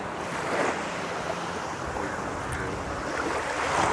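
Sea surf washing onto the shore at Mathagal during a fishing outing, a steady broadband roar with wind buffeting the microphone, continuous and fairly close with no voices.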